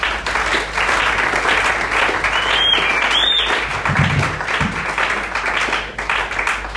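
A church congregation breaks into loud, sustained applause, dense clapping that fills the space steadily from start to finish, with a few brief cheers or voices rising above it.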